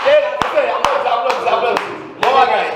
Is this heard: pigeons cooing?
no